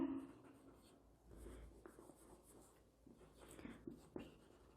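Chalk or a marker scratches across a board during a chemistry lecture, irregular faint strokes and taps in a quiet room with soft background noise and no speech.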